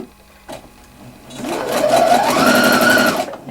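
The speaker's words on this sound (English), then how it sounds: "you're going to sew again nice and close to the edge" A sewing machine runs a gathering stitch along fabric, starting with a click and then speeding into a fast, steady whirring hum that rises in pitch and stops after about two seconds, close and clear with no speech.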